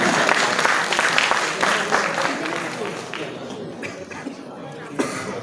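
An audience claps for the festival director at the opening of the Dhaka International Film Festival at the Bangladesh National Museum, a dense, steady round of applause with a few coughs and murmurs, tapering slightly toward the end.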